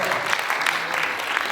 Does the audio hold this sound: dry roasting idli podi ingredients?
no